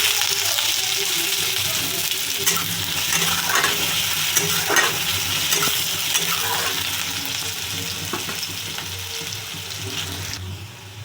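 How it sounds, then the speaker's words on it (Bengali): Onions frying in oil in a wok give a constant loud, close sizzle with occasional stirring scrapes, continuing evenly with no talking. "কড়াইতে তেল দিয়েছি এবার দিচ্ছি পেঁয়াজ"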